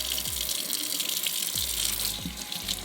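Continuous gush and trickle of water straining out of aquarium filter media for a nano fish tank, a steady splashing flow heard close up.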